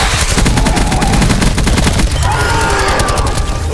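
Gunfire in Call of Duty: Black Ops 4, a loud, close, fast burst of automatic shots running steadily through the whole clip, with game effects mixed in and no talk.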